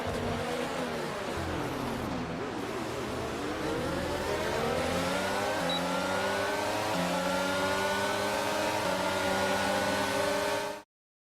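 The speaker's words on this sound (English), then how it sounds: "And here's our winner, pulling their Ferrari into Parc Fermé after a fantastic race." Ferrari Formula 1 car from the F1 22 racing game rolling slowly into parc fermé after the race, its engine a steady loud drone with rising and falling revs, alone without talk throughout.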